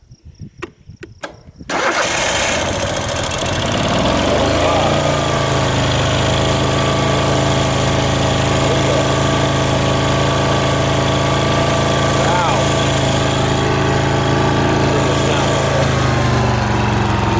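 A Dixon Pro ZTR2300 zero-turn mower engine, choke on and throttle partly up, catches after a few brief cranking bursts and then runs loud and steady, a close droning idle that continues to the end.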